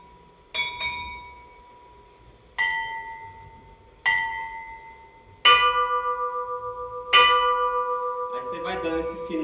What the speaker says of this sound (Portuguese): o toque fúnebre, no caso de mulheres, ele é feito com sinais